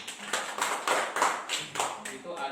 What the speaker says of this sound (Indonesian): Tepuk tangan Lutfi.